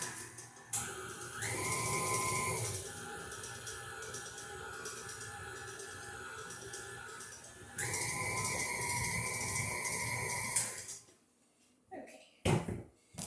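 An electric mixer beats chocolate sugar cookie dough with a steady mid-level whirring drone that changes pitch twice as the speed shifts, then cuts off near the end, followed by a few clunks and kitchen handling sounds.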